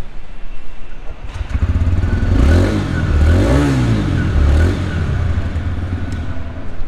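A 2023 TVS Raider 125 motorcycle exhaust revs up several times, rising and falling in pitch, loud and close, with a rumbling idle between blips.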